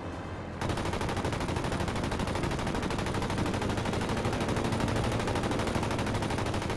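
Continuous rapid aircraft machine-gun fire in World of Warplanes, a loud unbroken rattling burst starting abruptly after a brief engine drone and running for several seconds without pause.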